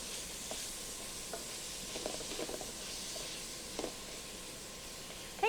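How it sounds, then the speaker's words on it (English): Green beans sizzling quietly in oil in a pan while being stirred, a soft steady frying hiss with scattered small crackles and a sharper clink near the end. "You'll hear that nice sizzle."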